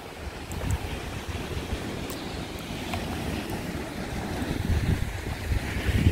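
Waves washing onto a wild beach on Taganrog Bay, a steady low surf rush mixed with gusting wind buffeting the microphone, continuous and fairly close.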